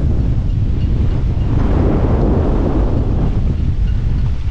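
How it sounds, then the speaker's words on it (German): Strong, steady wind roars and buffets the microphone at a campsite on Spain's Bay of Biscay coast at Ibarrangelu, with a low rumbling wash like surf underneath, continuous and loud with no voices. "Man hört, es ist sehr, sehr windig."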